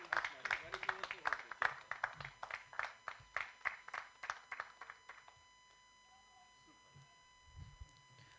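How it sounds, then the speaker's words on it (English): Audience applause after a panel discussion on a Kashmir counter-terror book, a steady round of rhythmic claps lasting about five seconds, then fading into a quiet room with faint murmurs. "A warm round of applause, rather a thunderous Round of applause for our speakers and Mr. Singh."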